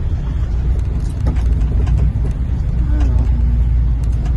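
Heavy road traffic rumbles steadily through Bagong Silang, Caloocan on a Saturday, with car and engine noise filling the scene and faint voices mixed in beneath the low drone.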